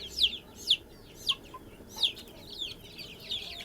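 Young chicks of the Kuchin and Barkovsky breeds cheeping, a faint string of short, high peeps repeating every half second or so against a quiet background.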